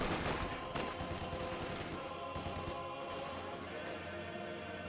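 An MG42 machine gun fires on paratroopers in Company of Heroes 2, rapid bursts buried in a constant wash of combat noise and scattered explosions, with faint commentary underneath.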